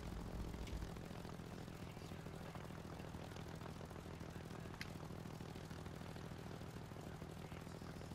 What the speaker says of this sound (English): we're flying planes right now.